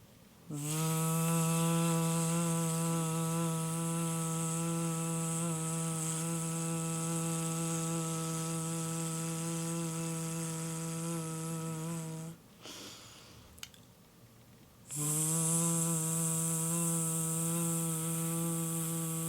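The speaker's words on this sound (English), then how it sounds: "as you exhale, make a long v sound" A long, sustained voiced v sound is held steadily on one pitch as a singing breath exercise. It is loud and buzzy, breaks for a short breath, then resumes. There is no talk.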